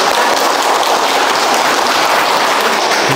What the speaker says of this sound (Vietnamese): bây giờ anh em vỗ tay cái cho anh Quốc